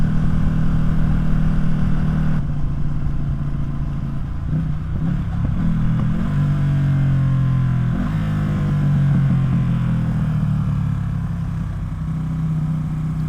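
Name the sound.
Ducati Streetfighter motorcycle engine, Arrow exhaust without silencer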